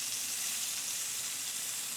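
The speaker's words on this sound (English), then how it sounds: "Hear the sizzle." Beef loin searing in a hot pan, a continuous close, crackling sizzle with no talk.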